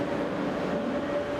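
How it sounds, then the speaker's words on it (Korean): Steady rumble inside a train departing from Stockholm, continuous and even, with a faint whine running through it and no voices. "스톡홀름에서 열차를 타고 엘란데르 총리의 흔적이 남아있는 곳으로 향했습니다."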